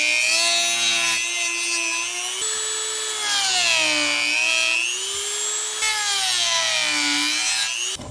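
A rotary tool's cutting wheel grinds through the plastic case of a Teckin SP20 smart plug, a loud high whine that rises and falls as the pressure changes and runs without a break.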